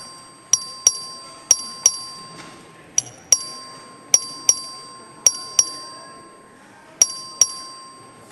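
Voting bell in a legislative chamber during a record vote, struck in a series of sharp, ringing dings in irregular clusters of two and three, clear and close with brief decay.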